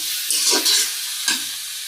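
Ash gourd slices frying in a pan give a steady, hissing sizzle, with a few louder bursts of stirring scrapes and spatter over the continuous frying noise.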